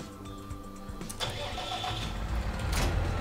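A tractor engine starts up in the Landwirtschafts-Simulator 19 farming game: a brief starter whir, then the engine catches and settles into a steady, loud mid-pitched idle rumble without speech.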